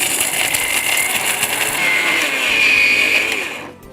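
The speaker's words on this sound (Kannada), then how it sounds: "ಈ ಮಿಕ್ಸಿ ಒಳಗಡೆ ಹೆಂಗೆ ಗೋಡಂಬಿ ಮತ್ತೆ ಈ ಬಾದಾಮಿ ಡಿಕ್ಕಿ ಹೊಡ್ಕೊಂಡು ಜಗಳ ಆಡ್ತಿತ್ತೋ" A kitchen mixer grinder whirs at high speed while grinding cashews and almonds, a loud steady motor whine that rises in pitch and then cuts off abruptly at the end.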